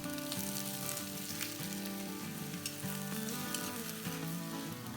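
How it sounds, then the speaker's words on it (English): Sliced onions sauté with bay leaves in hot coconut oil in a kadai, a dense, even sizzle with light crackle and faint stirring, close by and steady throughout. "Now heating some coconut oil in a kadai, adding 2 bay leaves, then goes in the sliced onions,"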